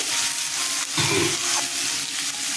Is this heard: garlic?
yes